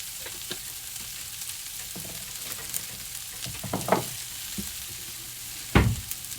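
A steak and egg skillet with butter, parsley and red pepper flakes sizzles steadily up close, with a few soft scrapes and two louder stirring scrapes partway through and near the end.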